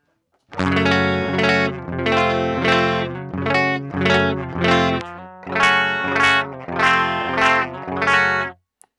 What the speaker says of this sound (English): even on the low input, there's just this like weird breakup